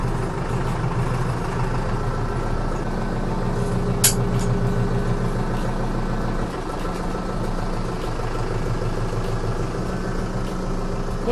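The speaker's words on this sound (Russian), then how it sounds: "Сегодня я ездил на тракторе Ловат" A heavy diesel engine of a Lovol 1054 tractor idles and runs steadily nearby, a constant low rumble with a brief click partway through.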